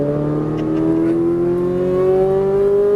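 A Ferrari 458 Italia engine pulls hard on throttle during a track drive, its loud, steady, near roar climbing smoothly in pitch throughout with no talking.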